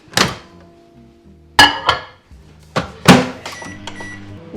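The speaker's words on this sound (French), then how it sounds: "Je pense que je vais les faire au micro-ondes" A microwave oven heating raspberries, with three sharp door or button thunks spaced through the clip and a low, steady electrical hum running between them. No voices.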